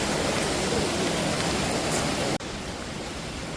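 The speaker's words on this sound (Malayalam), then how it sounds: "ഇവിടെ വെള്ളച്ചാട്ടം." A forest waterfall near a hydroelectric project in Palakkad roars as a steady broad rush of falling water, loud and continuous, with a brief cut partway through and no speech.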